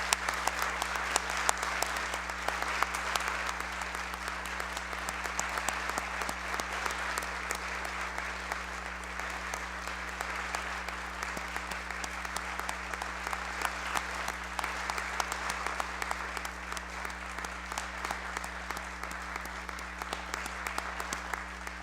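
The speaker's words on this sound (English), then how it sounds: "I would ask the chamber to give them a round of applause." Lawmakers in the Illinois state legislative chamber give a sustained round of applause, a dense, even patter of many hands that carries on for about twenty seconds over a constant low electrical hum in the room.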